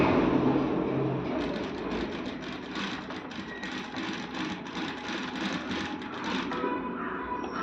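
A sewing machine runs continuously while stitching invisible thread piping, producing a steady, close mechanical whir with a fast rhythmic clatter throughout.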